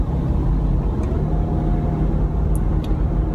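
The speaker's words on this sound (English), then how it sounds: "This truck just got right in front of me." A truck pulls in just ahead while the car is driving, heard from inside the car as a loud, steady road and engine rumble with a few faint clicks.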